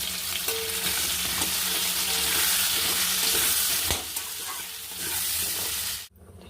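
Pieces of pointed gourd and potato fry in white oil with a loud, continuous sizzle and stirring, then the sound cuts off abruptly at the end.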